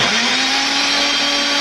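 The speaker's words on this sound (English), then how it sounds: "If you use a regular old blender, you're probably going to want to go a few minutes." Regular countertop blender running steadily at high speed, pureeing soaked dried coconut in hot water, a loud continuous whirring motor whine with no talking.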